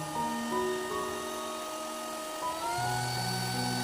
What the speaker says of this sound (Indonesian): Mixer adonan hingga tercampur rata. Saya gunakan speed nomor 3.